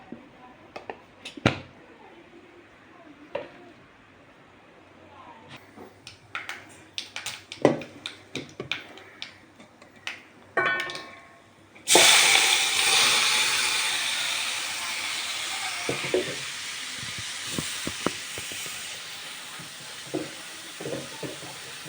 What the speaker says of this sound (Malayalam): കടുകിടുന്നു